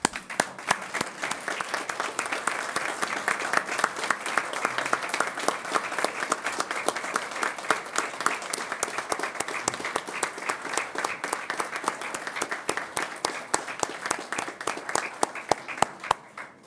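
Audience applause for honored citizens at a school recognition ceremony, sustained dense clapping from a large crowd lasting throughout, steady and moderately loud.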